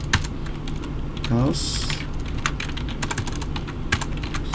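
Rapid keyboard typing while writing Java code on a computer, steady clicking keystrokes close to the microphone, with someone speaking briefly over it.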